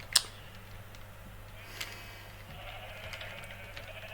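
A single short sheep bleat from Minecraft rings out near the start, followed by quieter game ambience and faint clicks.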